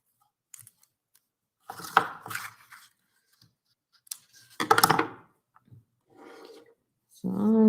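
Ribbon being trimmed with scissors in a craft setting, a few close snips and rustles spaced out, quiet apart from the cuts.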